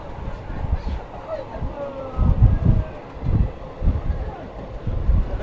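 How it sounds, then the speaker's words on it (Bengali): A passenger train crosses the Nasipur rail bridge between Krishnanagar and Azimganj, heard from on board as a deep, rhythmic rumbling with wind buffeting the microphone and muffled voices nearby. "এই ব্রিজের উপর দিয়ে যাচ্ছে প্যাসেঞ্জার ট্রেন"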